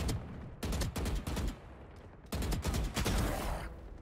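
Machine gun in Valorant firing loud automatic bursts, four or five sharp volleys separated by brief pauses, the last long burst running over a second, close and alone.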